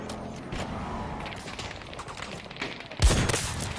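A sharp NTW-50 sniper rifle shot in a Battlefield-style game on the Rush XL map cracks out loud and close near the end, over a steady bed of distant battlefield noise and mechanical clatter.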